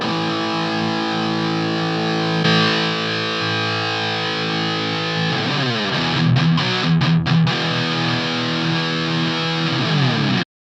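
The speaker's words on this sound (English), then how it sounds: "Then with it engaged, it just totally comes alive, so that sounds like this." Electric guitar played through a Blackstar ID:100 TVP amp with the valve power section engaged, a loud, sustained distorted tone with chords ringing and a burst of choppy strummed hits near the end, no talking.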